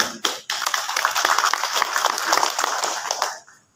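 Audience applause at a maulid religious lecture in Bogor, a dense burst of many hands clapping that starts abruptly, holds steady for about three seconds and then fades out.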